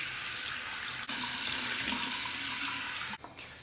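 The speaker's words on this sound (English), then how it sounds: "Cold water rinse." A tap runs cold water for a rinse after a shave, a steady close hiss of flowing water splashing into a sink that cuts off abruptly near the end.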